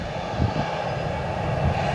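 An Aeronaves TSM aircraft engine roars at Cleveland Hopkins airport, a steady loud broadband drone that holds evenly throughout, with no voices.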